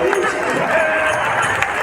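A crowd at a religious discourse by Dhirendra Krishna Shastri of Bageshwar claps hands in a steady, dense wash of applause that fills the whole moment, with voices mixed in.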